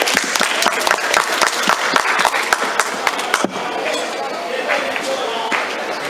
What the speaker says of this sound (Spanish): Recibamos a nuestros invitados con fuertes aplausos